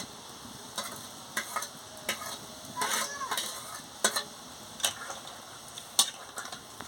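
Soybean and gram-flour fritter curry boiling in a pan, a soft bubbling bed broken by sharp clicks and scrapes of a spoon stirring at irregular intervals.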